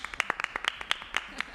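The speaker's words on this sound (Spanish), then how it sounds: "Un aplauso para Nicolás." An audience claps for a performer in short, sharp, irregular bursts close by.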